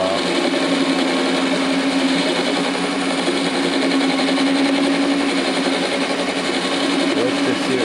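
A Grizzly G0781 mill motor shaft being turned on a machine, a loud, continuous high whirring drone with a steady tone that holds unchanged throughout.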